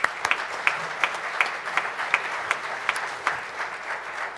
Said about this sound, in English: Let's give all our guests a round of applause.